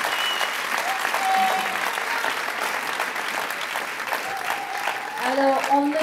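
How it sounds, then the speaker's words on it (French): Audience applause at a live charity gala evening in Peyrestortes, a steady wash of clapping from a crowd lasting throughout, with a voice speaking over it near the end. "On applaudit, monsieur là."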